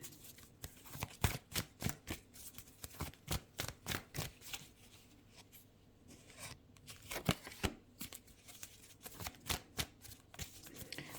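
Tarot cards riffled and shuffled close up, rapid papery flutters repeating in quick bursts with a short pause midway, no voice over them.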